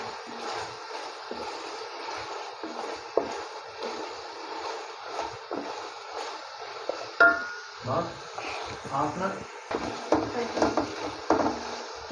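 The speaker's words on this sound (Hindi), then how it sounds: "5-6 मिनट हो गए हैं ऐसे भूनते हुए, बस ये अब भुनने के करीब है।" Chicken masala sautéing in a pan for chicken macaroni gives a steady soft sizzle, broken by repeated scraping and stirring scrapes of a spoon against the pan, close up.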